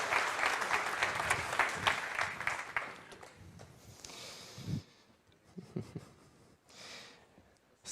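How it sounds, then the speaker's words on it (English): Conference audience claps after the first panel of the day, a burst of applause that thins out midway into scattered claps and a few voices. "A big applause, please."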